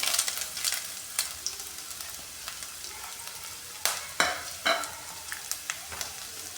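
Chopped ginger stirred with a spatula in a pan for galgal pickle: light sizzling with scattered sharp scrapes and clicks of the spatula, louder strokes bunched toward the middle and end, fairly quiet overall.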